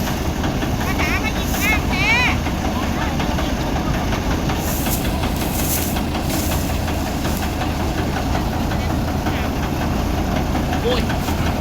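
A rice threshing machine's engine runs steadily and loudly at close range in a harvest field, with a continuous rumbling drone and metallic rattling throughout, and people talking faintly in the background.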